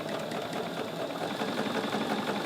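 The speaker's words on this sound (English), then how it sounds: "now I'm going to take this to the sewing machine and we're going to sew corner to corner" A sewing machine runs steadily, stitching a quilt binding corner to corner across fabric; a dense, continuous mechanical whir sits close and loud with no voices.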